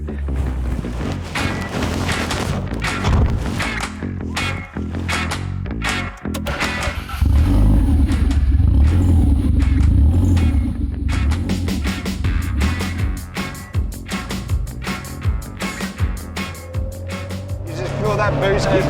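A Lancia Delta Integrale 16V rally car drives with a low, steady engine rumble that grows heavier partway through, heard from inside the car with people talking over it.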